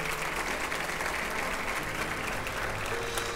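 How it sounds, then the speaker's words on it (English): Steady applause from a crowd at a high school honors ceremony, dense rapid clapping filling the whole stretch without a break. "Round of applause for our honored graduates."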